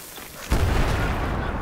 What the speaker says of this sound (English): They're dropping grenades down from the roof.